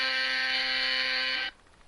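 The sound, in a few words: alarm sounding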